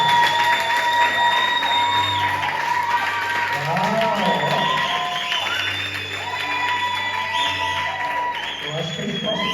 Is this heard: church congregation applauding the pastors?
yes